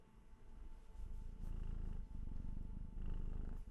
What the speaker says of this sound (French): il ronronne de ouf